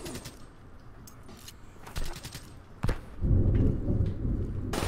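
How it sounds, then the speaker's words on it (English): Thunder rumbling outside during a Black Ops 3 gaming session, a deep low boom swelling near the end and lingering loudly after a couple of sharper cracks, with game sounds faintly mixed in. "Oh my god. It's thundering outside."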